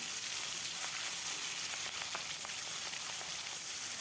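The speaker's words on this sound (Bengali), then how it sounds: "সরিষার তেল দিয়ে দিলাম। মাছগুলো এখন ভেজে নেব।" Fish fry in hot mustard oil in a pan with a steady, even sizzle and crackle, faint but continuous, with no voices.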